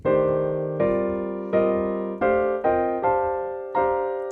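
A solo piano plays seven sustained chords in fourth voicings in a loose rhythm, each struck cleanly and left to ring and fade before the next.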